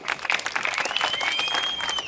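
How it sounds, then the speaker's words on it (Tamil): An audience at a comedy show in Madurai's A. Lakshmipuram applauds the drivers, with a short, steady wash of clapping and crowd noise filling the whole moment. "அவங்களுக்கு ஒரு கைதட்டு கொடுக்கலாம்."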